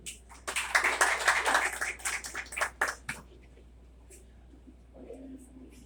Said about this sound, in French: Encore, je vous demande de l'applaudir, mesdames et messieurs.